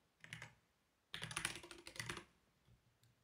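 Username and password being typed on a computer keyboard, a short burst of quick, close key clicks, then a longer flurry of rapid taps that tails off into a few scattered presses.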